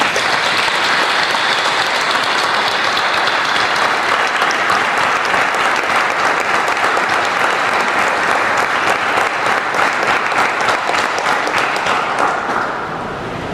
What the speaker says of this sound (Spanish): Yo les voy a pedir que le demos un aplauso al Señor